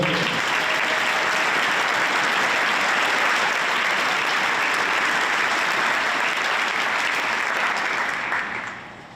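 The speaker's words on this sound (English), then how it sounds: "Give them a round of applause." Sustained applause from a large concert audience at a state music festival, steady and loud for several seconds before tapering off at the end.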